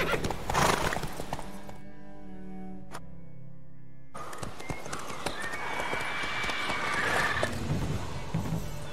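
A horse in the video game Witcher 3 neighs and clops its hooves amid game sound effects and music, with a brief sharp crack partway through.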